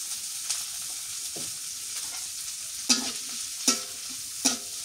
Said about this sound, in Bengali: সরিষার তেল দিয়ে দিয়ে এখন পেঁয়াজ আর মরিচ একটু ভাজে নিলাম।